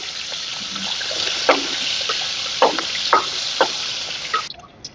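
Ginger-garlic paste and a potato frying in hot oil for a non-veg dish, a steady broad sizzle with a few sharp crackles and pops, close and fairly loud, cutting off near the end.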